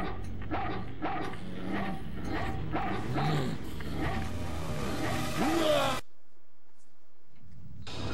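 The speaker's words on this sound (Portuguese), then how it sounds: "Olha lá, cara, o cachorro" A dog in the PS2 horror game Haunting Ground barks and yips repeatedly in quick bursts, loud and close, with whimpering tones mixed in, before cutting off into near silence at the end.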